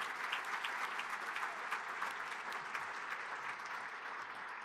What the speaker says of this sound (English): give them a big round of applause to thank them for their time